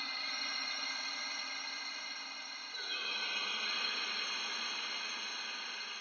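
An ambient synth pad with airy, shimmering high tones and a soft noise wash sustains steadily, its texture shifting partway through, quiet and continuous.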